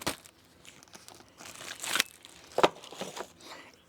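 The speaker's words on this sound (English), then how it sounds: "Remove your brake pads out of the packaging." Crinkly plastic packaging rustles and crackles as brake pads are pulled out of it, in irregular close bursts of crumpling with a couple of sharper crackles between quieter handling noises.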